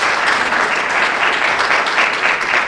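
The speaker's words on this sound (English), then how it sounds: "Let's just give them a round of applause." Audience applause at a panel discussion, a full, even wash of many people clapping, loud and close for a few seconds with no speech over it.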